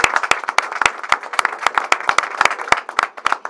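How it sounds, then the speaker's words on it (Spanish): A short round of applause, with individual claps sharp and distinct from a modest group, steady and fairly close. "fuerte el aplauso para él también"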